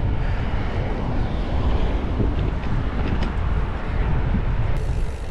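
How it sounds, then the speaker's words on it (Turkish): Strong, continuous wind buffeting the microphone while cycling along the Danube: a dense, loud rumbling roar with no breaks. "Rüzgar olmasa çok iyi bir tur olacak da. Ama ne yazık ki duyuyorsunuz."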